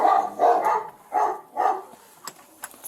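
A dog barks four times in a steady rhythm, close and fairly loud, followed by a few fainter yips and scuffles.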